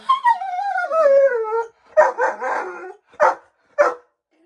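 A dog makes a drawn-out whimpering howl, then gives several short, sharp barks in quick bursts, loud and close, with no talking.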